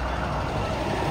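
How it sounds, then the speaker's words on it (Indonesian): An UD Quester trailer truck towing a tanker truck grinds up a steep climb, giving a steady, loud, broadband engine roar with no breaks and no talk. "mulai muncul nampak trailer UD Quester yang menarik truk tangki"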